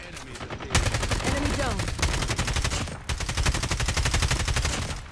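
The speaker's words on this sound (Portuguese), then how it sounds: "Tiros pra lá." Rapid bursts of automatic gunfire in Call of Duty Mobile Battle Royale crackle almost continuously, loud and close, with brief gaps between volleys and faint voices underneath.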